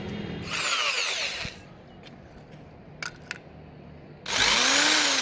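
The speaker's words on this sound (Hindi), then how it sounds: "इसके बाद हम यहाँ पे ड्रिल से सुराख कर देंगे।" A power drill bores a hole in a water tank while an overflow float switch is being installed, in two loud whirring bursts separated by a quiet pause with a few small clicks.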